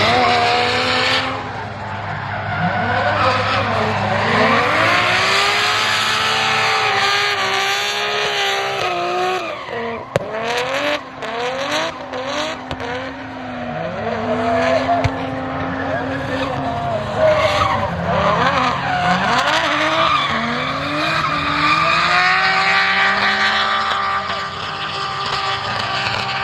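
A car drifting laps at Queensland Raceway, tires skidding and squealing in long wavering howls over a loud revving engine with repeated gear changes, sustained and close throughout.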